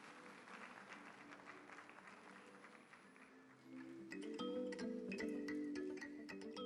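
Audience applause at a formal awards ceremony, a steady wash of clapping at moderate level that swells louder in its second half as music begins underneath.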